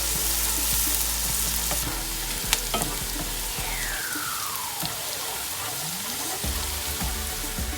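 Green chili and chili flakes sizzle and fry steadily in a hot pan, a loud continuous crackle with a brief stir partway through and no voices.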